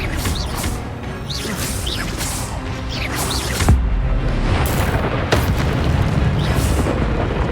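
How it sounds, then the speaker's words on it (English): Expelliarmus disarming spells are cast during a Hogwarts Legacy duel, with repeated whooshing magic bursts and rumbling booms, plus a sharper crack partway through amid continuous combat noise. "Expelliarmus!"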